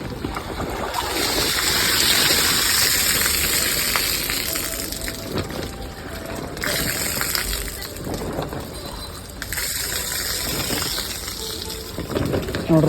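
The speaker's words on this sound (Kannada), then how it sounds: "ನೋಡ್ರಿ ಮಳೆ ಬಿದ್ದಕ್ಕೆ ನೀರು ಬೀಳೋದೈತೆ" Rainwater flows and gushes steadily past an obstruction after a downpour, a continuous rushing wash that swells and eases slightly while someone talks over it.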